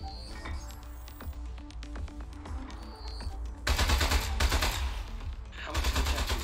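Rapid bursts of gunfire from a desk-mounted gun in the video game Aperture Desk Job, a patter of shots under game music that swells into a louder, denser volley partway through.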